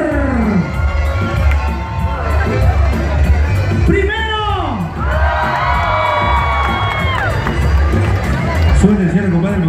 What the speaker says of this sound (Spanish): Aplauso y grito para el segundo stripper.